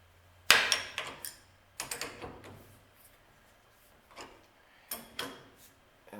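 Brass fittings on shop air PEX piping tightened with a crescent wrench: a few sharp metallic clanks and ratcheting clicks in separate clusters, close by, with quiet gaps between.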